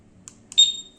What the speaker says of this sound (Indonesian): Nah ini buat alarm.